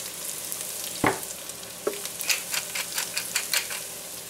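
Corn and epazote sizzle in a frying pan for squash blossom soup, a steady close crackle with scattered sharp pops and a couple of louder clinks near the start.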